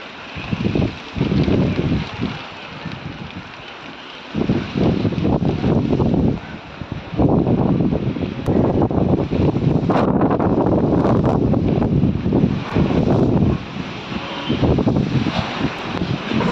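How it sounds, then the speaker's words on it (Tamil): Strong wind with rain buffets the microphone in heavy, roaring gusts that rise and fall continuously, loud and close, with no talking. "சரியான காற்றுங்க, அந்த அளவு காற்று இருக்குது."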